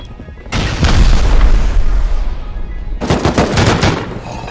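Rocket explosions in the video game Rust: two heavy, roaring blasts, the first hitting about half a second in and rumbling on, the second following a few seconds later with a rattling, crackling tail, loud and close with no talk.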